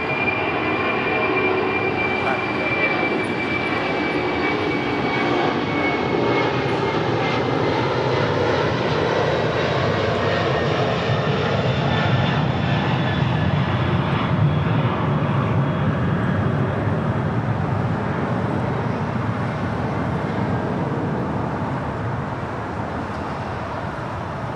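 A Giant heavy cargo jet, callsign 8833, departing from LAX, a sustained loud engine roar with whining tones that drifts slowly over the whole stretch without a pause and with no voices.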